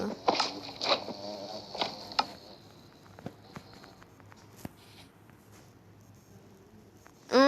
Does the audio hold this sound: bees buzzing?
yes